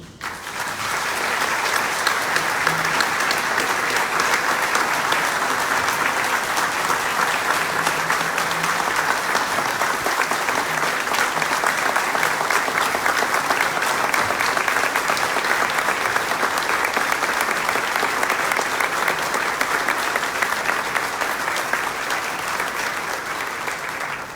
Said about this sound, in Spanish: Nuestro expositor, John Reynolds, se merece otro aplauso.